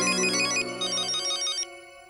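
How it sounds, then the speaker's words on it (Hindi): A telephone ringtone plays a repeating electronic melody of bright tones, loud and close, running about a second and a half before cutting off, with no voices. "भिड़े मास्टर का ही फोन है।"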